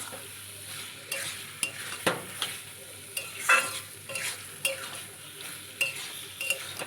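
Chicken gizzards fry in a pan for a gizzard-and-liver braise while a spatula stirs them: a soft, constant sizzle runs underneath, broken by repeated scraping strokes at a fairly steady rhythm.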